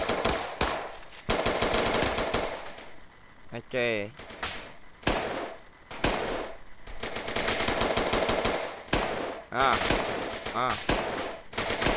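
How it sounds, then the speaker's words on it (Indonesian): Rapid automatic gunfire in GTA, loud bursts of shots that stop and start through the whole stretch, with a few brief spoken words and an exclamation in between. "Ayo tembak, tembak, dor, dor, dor, dor, dor, tembak aja terus."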